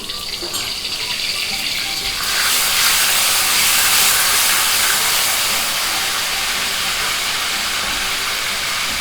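Garlic ginger paste hits hot oil in a pot, a loud broadband hiss that swells after a couple of seconds and then holds steady.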